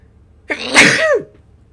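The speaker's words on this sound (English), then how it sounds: "I'm about to sneeze again." A single loud sneeze up close, a sharp intake followed by a forceful, breathy burst that fades out quickly.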